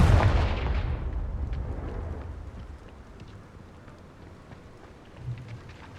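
A Confringo blasting spell in Hogwarts Legacy bursts loudly at the start, then decays into a long rumbling, crackling tail like distant thunder, with a faint second thump near the end.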